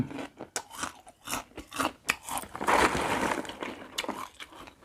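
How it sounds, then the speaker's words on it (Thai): Crispy fried chili, big whole pieces, is bitten and chewed up close in a run of sharp, dry crunches, followed by a denser stretch of crackly chewing. "พริกกรอบ ออริจินอล"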